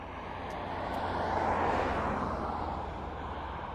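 An aircraft on approach to East Midlands Airport gives a steady, moderately distant broadband roar that swells gradually and then slowly fades, with no voices over it.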